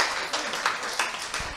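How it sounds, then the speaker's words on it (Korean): A seminar audience gives team leader Seo Jeong-su a brief round of applause: scattered, moderately close hand claps over a dense patter for under two seconds. "우리 서정수 팀장님께 큰 박수 부탁드리도록 하겠습니다"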